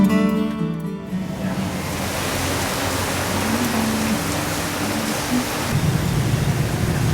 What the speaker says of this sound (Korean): 매일 오후 비가 내리는 호치민의 여름.